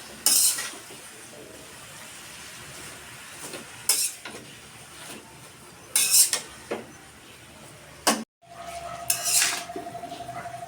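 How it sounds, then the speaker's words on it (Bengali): A metal spoon scrapes and clanks against a cooking pot while leafy gourd greens are stirred, sharp knocks spaced a few seconds apart over a low background, close and fairly loud. "এখন শাকটি একটু নেড়ে চেড়ে নিই।"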